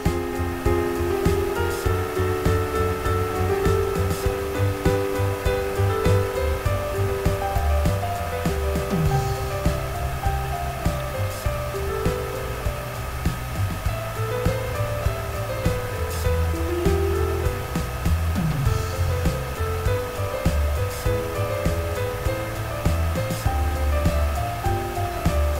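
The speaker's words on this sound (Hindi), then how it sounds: "कीमा डालने के बाद कीमे की हम 5 मिनट के लिए तेज आंच पर भुनाई करेंगे" Minced meat (keema) fries on high heat for Pakistani-style keema karela, giving a continuous loud, close sizzle broken by frequent scraping and clattering bursts.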